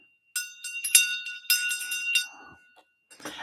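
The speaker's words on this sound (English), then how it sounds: "the shang bell" A Tibetan shang bell, a small ritual cymbal-bell, strikes bright metallic rings, several quick clinks and shimmering tones in succession with a sustained ringing hum beneath, close and fairly loud.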